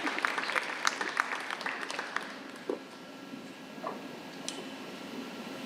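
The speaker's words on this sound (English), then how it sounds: "You can give Maximo a round of applause." An audience at a Lawrence High School awards ceremony gives a round of applause for an absent award winner, soft, fairly distant clapping that thins out and trails off into scattered claps and room noise.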